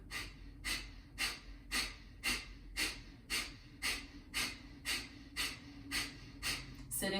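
Rapid yogic breath of fire: forceful nasal exhalations pumped from the belly, about two per second in a steady, even rhythm, close and clear with nothing else over them.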